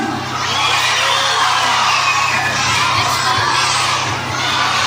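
A large outdoor crowd in Pasacao, Camarines Sur, shouts and cheers together in one loud, sustained roar of many voices, partly high children's voices, that keeps going throughout.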